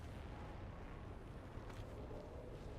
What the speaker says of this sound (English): Gun go burr.